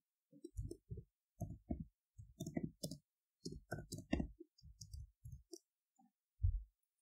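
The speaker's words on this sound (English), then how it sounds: "In this case, we're going to type out of date SOP." Keys tapped on a laptop or tablet keyboard, isolated clicks in short irregular clusters separated by silence, close and faint with nothing else audible.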